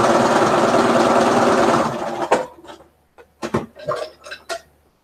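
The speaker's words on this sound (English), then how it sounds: "So first I am sewing my windows." A sewing machine runs steadily for about two seconds while stitching quilt windows, a dense whirring drone, then breaks off into a few short bursts and clicks as the fabric is adjusted.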